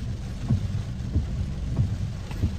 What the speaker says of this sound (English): I know y'all hear the rain.